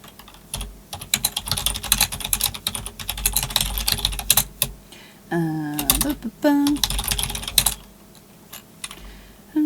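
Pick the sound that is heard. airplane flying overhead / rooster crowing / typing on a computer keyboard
typing on a computer keyboard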